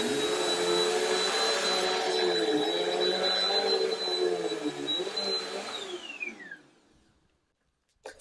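A Bissell CleanView Swivel Rewind vacuum (model 2254) runs loudly up close on medium pile carpet on setting 3, with a steady high whine and motor roar that spins down and fades out near the end.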